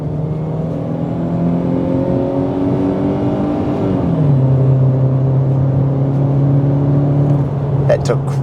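Four-cylinder Honda Accord Euro accelerating up to 100, its engine drone rising steadily with a gear change partway through, heard from inside the cabin at moderate loudness.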